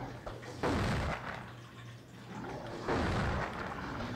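Two loud, booming explosions from the Original Xbox game The Thing, one at about 0.6 s and another near 2.9 s, each a broad roaring burst that lingers, over a steady low hum.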